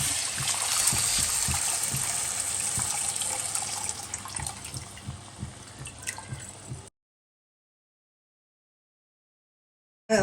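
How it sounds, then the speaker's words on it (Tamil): Tamarind water pours steadily into a simmering ayirai river-fish curry, a continuous splashing trickle that runs for about seven seconds and then stops, leaving silence. "நான் கரைச்சி வச்ச புளி தண்ணி இதில் ஊற்றிக்கலாம்"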